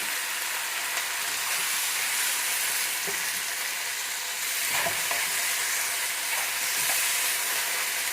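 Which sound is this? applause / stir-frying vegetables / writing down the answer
stir-frying vegetables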